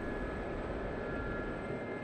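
Turbine engine and rotor of an SA342 Gazelle helicopter in the DCS flight simulator game, a steady droning whine with a constant high tone, unbroken and fairly even, no voices.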